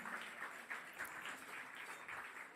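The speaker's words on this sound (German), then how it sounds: "Nochmal, einen großen Applaus für El Andalus, die Braunschweiger Löwen." Applause from a concert audience for the band El Andalus at a music contest finale, a quiet, even patter of many hands clapping without pause.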